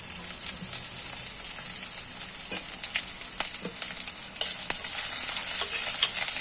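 Jackfruit leaves for a thoran are stirred and fried in a pan. A close, continuous sizzle carries scattered scraping and clicking of the spoon, steady and fairly loud with no voices.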